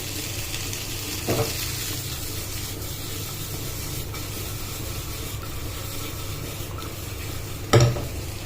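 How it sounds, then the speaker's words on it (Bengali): Spiced shrimp stirred in a frying pan with a steady sizzle throughout, plus a couple of brief scraping stirs against the pan, close and continuous with no voices. "হালকা হালকা করে নাড়িয়ে নিতে হবে যাতে মশলাগুলো ভালো মতো লেগে যায়।"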